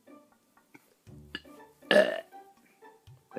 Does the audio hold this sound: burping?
yes